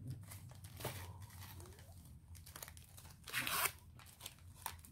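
2020 Topps Allen & Ginter baseball card packs being torn open by hand, close crinkly wrapper tearing and crumpling in several short bursts, with a louder rip near the middle.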